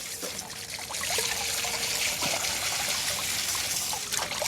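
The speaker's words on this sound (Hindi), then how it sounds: "मैं इसको और पानी से साफ़ कर रहा हूँ" Water trickles and splashes steadily as it rinses soil from the roots of an adenium (desert rose) plant being treated for fungal rot, a continuous close-up stream with no talk.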